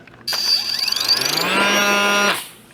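A Caldwell Claycopter throwing machine spins up and launches two clay targets, a loud, close mechanical whir that rises sharply in pitch, holds as a steady whine, then cuts off abruptly.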